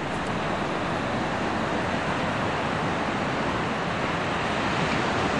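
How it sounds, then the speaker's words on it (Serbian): Atlantic Ocean surf makes a steady, broad roar that does not let up, likely with wind mixed in, and no voices. "Atlantski okean."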